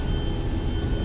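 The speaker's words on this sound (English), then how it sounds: "Takeoff power set." Boeing 737-300 jet engines at takeoff power in X-Plane 11 make a loud, continuous roar with a steady whine running through it.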